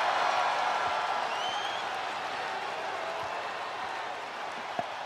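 A large arena crowd in a WWE 2K wrestling game applauding and cheering, a dense, steady wash of clapping and crowd roar that slowly eases off, with no talk over it.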